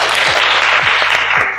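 Brief burst of audience applause for a student speaker at a university teaching session, steady dense clapping filling the whole moment with no talk over it.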